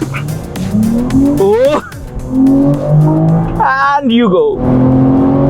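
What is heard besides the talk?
BMW M340i launch control acceleration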